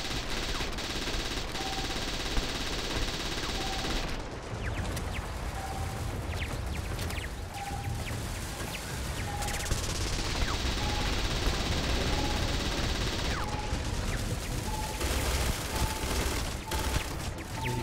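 A turret in Starfield fires in sustained bursts, a constant rattling fusillade with brief pauses and tonal beeps recurring throughout, close and loud.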